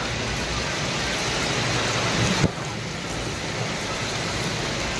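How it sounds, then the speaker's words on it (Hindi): Heavy rain pours steadily throughout, with a low rumble of thunder building and a brief crack midway, no voices. "बहुत तेज़ बारिश लग रही है और बादल भी गरज रही है"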